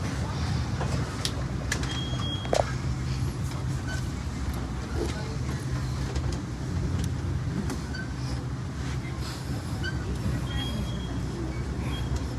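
A tour vehicle rolls along the roads of Arlington National Cemetery, giving a steady low engine and road rumble with faint clicks and rattles, alone and without talk.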